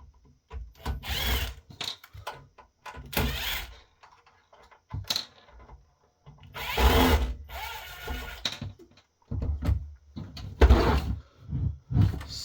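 Screws being removed from the top cover of a Dish Hopper DVR during a teardown, heard as several bursts of close, gritty tool and handling noise separated by brief pauses.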